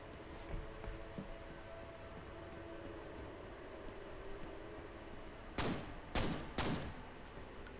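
Gunfire in the horror shooter F.E.A.R. aimed at a gas pipeline: a low rumbling game ambience, then three sharp loud bursts of shots near the end.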